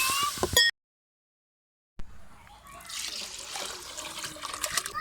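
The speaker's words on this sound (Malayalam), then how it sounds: "ശേഷം ഇതിലേക്ക് ആവശ്യത്തിന് വെള്ളം ഒഴിച്ച് നമ്മുടെ ചോറ് വേവിച്ചെടുക്കാം" Water poured into a cooking pan to boil rice, a steady splashing pour that begins after a brief silence and continues at moderate volume.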